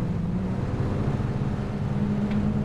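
Car engine in PUBG, a steady low droning hum held at an even level throughout, close and continuous with no talk.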